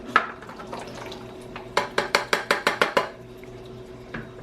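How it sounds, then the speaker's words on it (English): A spoon stirs drained canned kidney beans in a metal colander, giving a quick run of about eight evenly spaced metallic clanks, close and fairly loud, with a few scattered knocks around it. "Get a spoon and stir it around and get all the juice out."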